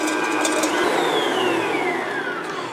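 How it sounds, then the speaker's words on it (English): Electric stand mixer whisking double cream, giving a loud steady motor whine whose pitch slowly drifts downward as it runs, with a rushing whir throughout and no voices. "So we want to pop that in our mixer."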